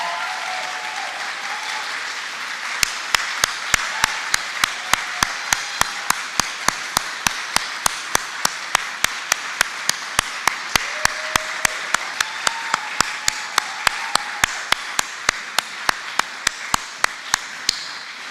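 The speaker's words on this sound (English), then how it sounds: "One final round of applause" A standing crowd gives a long, sustained round of applause at a Governor Cuomo announcement, with dense clapping throughout and a sharp, regular tapping beat layered on top from start to finish.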